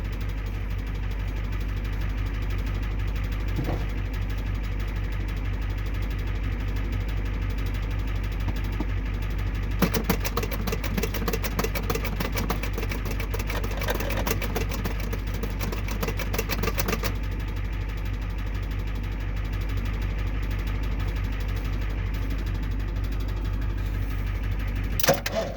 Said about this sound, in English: We'll turn the key and pump it a few times.